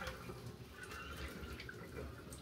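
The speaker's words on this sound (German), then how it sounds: "das heiße Wasser einmal abgießen" Hot water poured off cooked rice from a pot into a sink, a soft steady splashing and trickling stream, faint and continuous throughout.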